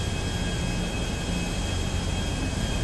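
Airplane flying in Grand Theft Auto V, a steady, loud, unbroken engine roar and rushing air that holds constant throughout without any voices.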